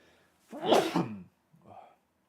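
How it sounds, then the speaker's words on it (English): A single sneeze from a streamer at a desk, a loud sharp burst near the mic with a softer trailing breath or sniff just after. "think I'm gonna sneeze"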